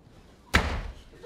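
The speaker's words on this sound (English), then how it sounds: "Slam that door hard, Stevie!" A door slams hard once, a sudden loud bang that rings out and decays over the following moment.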